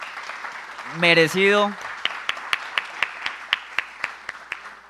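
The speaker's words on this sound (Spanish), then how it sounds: "yo invito un aplauso para el doctor Henry" Someone speaks briefly, then an audience at a university peace forum claps: sparse, distinct, rhythmic claps spaced evenly, fairly close and moderately loud.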